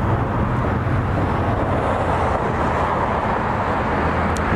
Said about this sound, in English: Upgraded mufflers sound real good on this bike.